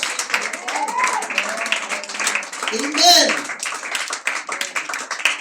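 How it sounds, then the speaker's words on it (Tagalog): Church congregation clapping in thanks, a brisk patter of many hands under loud voices calling out and shouting praise, with one clear spoken word. "Come on, palakpak, pasalamat, hallelujah, sa mga prayer warriors."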